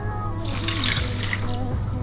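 Water from a tap pours steadily into a pot set up for cooking almonds with sugar, a continuous splashing rush lasting throughout at close range with no talk.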